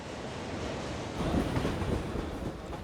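Commuter train in Tokyo rumbling along the rails, a steady broadband roar that swells slightly midway with faint rhythmic wheel clatter, fairly close and continuous with no voices.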